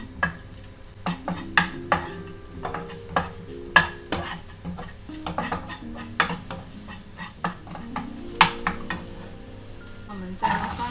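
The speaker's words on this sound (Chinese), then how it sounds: "放入蒜和小葱，我们让它炒至香。" Garlic and scallions stir-fry over medium heat in a little oil, a soft sizzle beneath repeated, irregular scraping and clacking strokes of a spatula against the pan.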